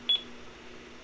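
An Ademco Lynx alarm panel keypad gives one short, high electronic beep over a low background hum, close and clear.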